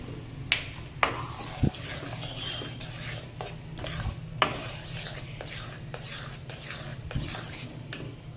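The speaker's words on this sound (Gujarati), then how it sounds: "અડધી ચમચી જેટલો એલચી પાવડર ઉમેરી સારી રીતે પાછું મિક્સ કરી લઈશું" A ladle stirring creamy rice kheer with cardamom powder, cashews and almonds in a metal pot, with repeated clinks and scrapes against the sides over a low background hum.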